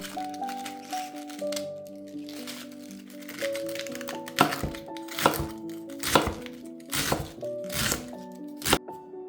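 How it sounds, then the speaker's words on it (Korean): A knife cuts cabbage into thick strips on a board. Crisp, crunchy chops come in a loose rhythm over soft background music, growing louder and more frequent after a quiet start. "먼저 양배추를 굵게 채 썰어 주세요."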